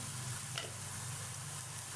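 Straw mushrooms frying in a pan after their water has nearly cooked off, giving a steady, close sizzle with a soft hiss throughout and no talking.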